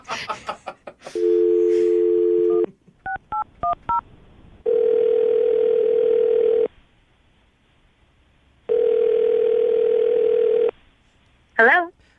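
Telephone call sequence: a steady dial tone, a quick run of touch-tone dialing beeps, then two long ringback tones separated by silence, heard close and clear, with brief talk at the start and end.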